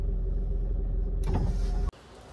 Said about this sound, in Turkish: arabanın camı nasıl açılır?